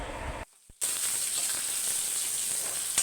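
Small onions, garlic, mustard seeds, cumin, fenugreek, dried chili and curry leaves tempering in hot oil give a steady, close sizzling hiss that cuts out briefly and then resumes, continuous until the end.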